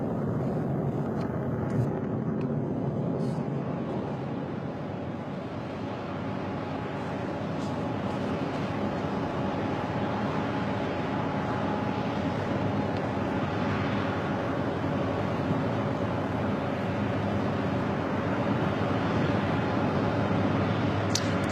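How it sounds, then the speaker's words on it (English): A Lockheed F-22 fighter jet makes a pass at the Bahrain air show, a broad, steady roar heard from a distance with wind noise throughout. "gonna get another pass from the F-22"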